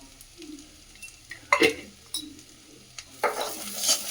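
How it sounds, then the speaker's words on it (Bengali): Masala with coriander powder, cumin powder and garam masala frying in a pan for a chicken reshmi kabab butter masala, with a soft sizzle under a few sharp metal spoon scrapes and clinks as it is stirred. "দিয়ে আবার মশলাটাকে ভালো করে ভাজতে হবে"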